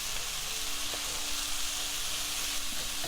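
Tomato paste sautéing in a pan for butter chicken, a soft, even sizzle and hiss held steady throughout at low level, no talk.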